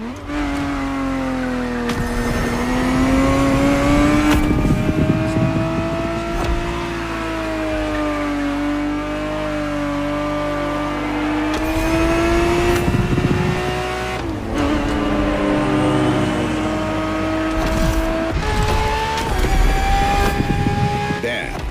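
A 1970s Ferrari 365 GTB4 races in The Crew Motorfest, its loud, close engine climbing through the revs with several sharp gear changes, dropping and rising again without pause.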